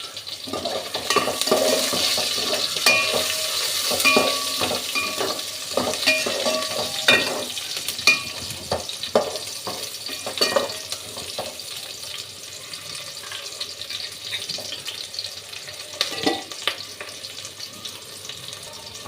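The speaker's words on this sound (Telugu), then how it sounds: "ఇప్పుడైతే ఇవి ఆనియన్స్ ఫ్రై అవ్వాలి కదా" Onions frying in a pan for bagara rice give off a continuous loud sizzle, with scraping and stirring clinks coming through at irregular moments. The sound is close and steady and no one speaks.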